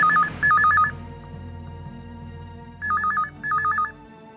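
A telephone rings indoors in two warbling double bursts separated by a pause, bright and electronic over a low background hum, with no one speaking.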